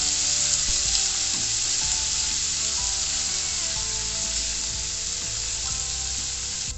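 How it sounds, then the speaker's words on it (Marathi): Garlic and finely chopped ginger sauté in hot oil, a loud steady sizzle with scraping stir strokes throughout, close and without voices. "लसूण व्यवस्थित परतून घेतलेला आहे।"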